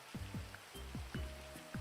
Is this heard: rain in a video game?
yes